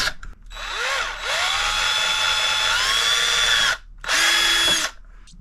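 A hand drill bores a hole through the center of an RC wheel rim for a Team Associated Rival MT10, its motor whining steadily in two long bursts separated by a brief pause, close and loud.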